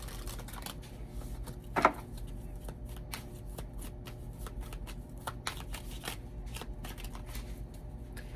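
Tarot cards being shuffled by hand, a close run of quick riffling flicks and soft slaps over a faint steady hum.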